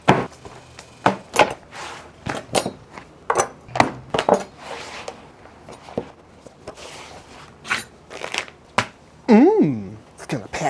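A Wagyu sirloin tip steak is patted dry with a series of close, sharp, uneven slaps and dabs scattered across the moment, and a voice briefly sounds near the end.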